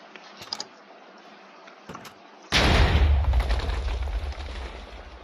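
A TNT blast in Minecraft, a sudden loud booming explosion that rolls and fades over a couple of seconds, preceded by a few faint clicks and short quiet sounds.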